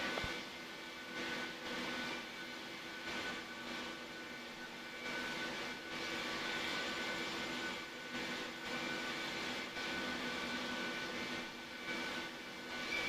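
Boeing 737-800 jet engines roar on takeoff in a flight simulator, a steady, fairly quiet broadband rush that swells slightly, heard alone without voices.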